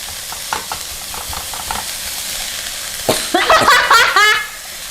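Dried chilies are stir-fried for a spicy minced-beef spaghetti, giving a soft background sizzle with scattered scraping stirs, then a louder burst of tossing and clattering near the end.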